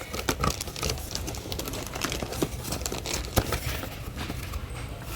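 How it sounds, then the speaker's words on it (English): Plastic packaging crinkling while the accessories of a Lenovo ThinkStation P2 tower PC are unboxed, including a wired USB keyboard, mouse, power cord and manual. Close, irregular crackles and rustles with sharp taps and snaps continue throughout, with no speech. "I'm just unboxing the unit."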